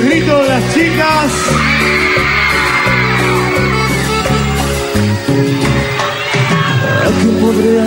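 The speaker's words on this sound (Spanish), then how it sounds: "Y el grito de las chicas." Girls in a concert crowd scream and yell over loud live cumbia music, the shrill cheering sustained throughout alongside the band.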